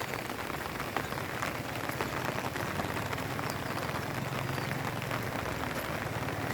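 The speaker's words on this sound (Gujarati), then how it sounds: "સતત સવારથી પડી રહેલ વરસાદના કારણે ભીમાક્ષી નદી ગાંડીતુર બે કાંઠે જોવા મળી રહી છે" Heavy rain pours steadily beside the flooding Bhimakshi river near Galodiya village in Khedbrahma, a dense, even hiss with pattering drops on surfaces throughout and no voices.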